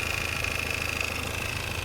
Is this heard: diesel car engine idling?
yes